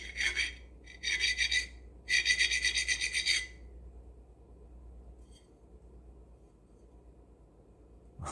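A Chinese porcelain piece scratched and cut, giving three sharp rasping bursts in the first few seconds followed by quiet low room noise.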